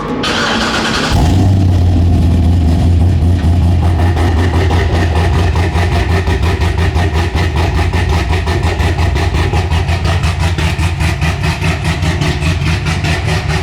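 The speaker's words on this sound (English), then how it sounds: "Let's do the first cold start" A Corvette Z06 V8 fires up from cold with a sharp crank, then settles into a loud, steady, rumbling high idle that stays close and constant, with no talk over it.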